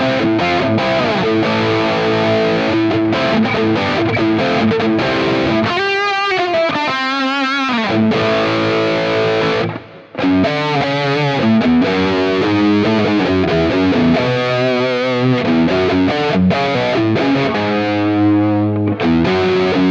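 Distorted electric guitar through a Quad Cortex with subtle chorus and hall reverb, playing loud, sustained chords and melodic lines that ring out continuously, with one brief drop to silence near the middle.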